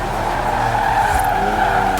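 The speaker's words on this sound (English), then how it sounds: "3-litre straight six, 335 horsepower, 2 turbos, and as much sideways action as you like" A 3-litre twin-turbo straight-six car with 335 horsepower drifts sideways in the Forza Horizon 4 racing game, tires squealing in one continuous, loud skid over a throaty engine.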